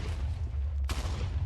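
An explosion from the wither in the Minecraft video game bursts out once, loud and sudden, over a constant low rumbling background.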